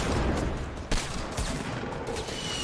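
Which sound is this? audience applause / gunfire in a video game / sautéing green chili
gunfire in a video game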